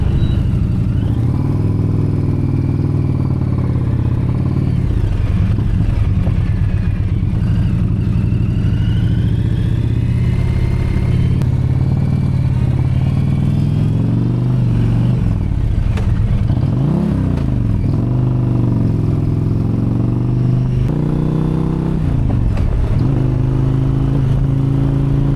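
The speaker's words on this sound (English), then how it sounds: "We're gonna put miles on these bikes. We got 2 Indian Pursuits, 1 Victory Vision, and a Gold Wing Bagger." Several touring motorcycles, two Indian Pursuits, a Victory Vision and a Honda Gold Wing bagger, ride together on a highway toward San Antonio, a steady loud engine drone with wind rumble and a couple of brief rising revs, no talk.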